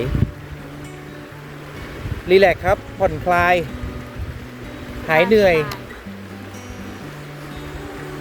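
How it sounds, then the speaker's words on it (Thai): Flowing stream water in a Thai forest setting, a steady broadband rush running beneath two people talking in the foreground. "ด้านหน้าของพวกเราครับ เป็นลำธาร น้ำไหล"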